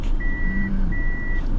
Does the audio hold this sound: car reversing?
yes